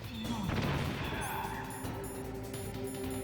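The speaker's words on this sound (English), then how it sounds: "No, ran right into my own grenade." A grenade explodes in a Metal Gear Solid game, a sharp crash and boom early on that decays into ringing debris and tonal game effects, with music and ambience continuing underneath.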